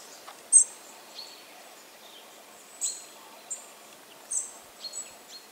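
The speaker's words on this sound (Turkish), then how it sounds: "Minnacık kuşlar bu ötenler arkadaşlar." Tiny birds chirp in short, bright, scattered calls over a quiet outdoor background with faint wind, in a wooded spot near a cave in Datça.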